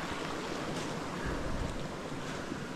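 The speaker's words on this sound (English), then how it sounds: "Got a little creek crossing here." A small creek crossing on an old ATV path in a wooded hollow gives a close, steady rush of flowing water, mixed with some wind buffeting, and no one speaks.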